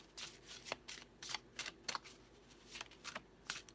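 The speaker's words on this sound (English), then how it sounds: "It's really hard to shuffle humongous cards" Large oracle cards being shuffled by hand, a run of crisp papery riffles and slaps in irregular bursts, close and fairly quiet, with no voice over them.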